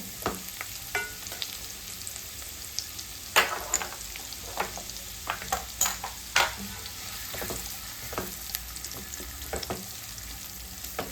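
Finely chopped onion fries in a pan with a continuous sizzle, broken by frequent scraping and clinking as a spatula stirs it.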